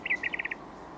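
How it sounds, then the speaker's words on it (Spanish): A bird gives a quick series of sharp, high chirps, one longer note followed by five short evenly spaced ones, then stops, clear against a quiet background. "Es un pájaro que puede decir su nombre."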